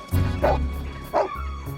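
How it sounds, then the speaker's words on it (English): A dog gives two sharp, close barks about half a second apart, with a low rumble and a brief whimpering tail between and after them. "It's just a dog."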